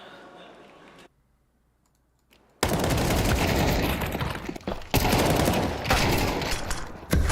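Gunfire in a Counter-Strike match, dense rapid bursts of shots after a near-silent gap, loud and continuous with a few brief breaks, mixed under game noise and talk.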